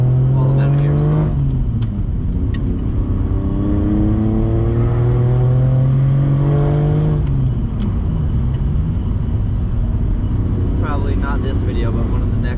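A car engine revs and pulls while driving, the pitch climbing through gears then dropping and rising again, loud and close from inside or near the car, with a voice talking over it.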